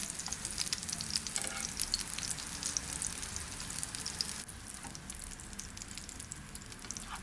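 Homemade meatballs (köfte) fry in a pan: a constant, soft crackling sizzle with fine pops throughout, close and steady, dipping slightly in level partway through, with no talking.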